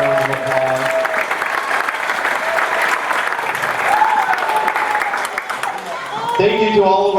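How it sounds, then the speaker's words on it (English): Audience applause after a 7th and 8th grade middle school play, loud and sustained, with scattered cheers and whoops rising over the dense clapping and a brief shout near the end. "Give yourself a round of applause."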